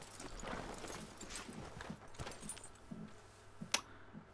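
Horse hooves in the Red Dead Redemption 2 video game, a soft, fairly close clip-clop of a walking horse with a light jingle of tack and one sharper click near the end, fairly quiet overall.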